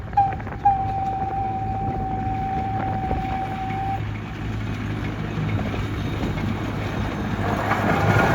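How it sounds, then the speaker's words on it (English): A train moves along the museum track at the National Transportation Museum in St. Louis, a steady close rumble with a long sustained whine through the first half and no talk. "And while we were there, we saw the train again."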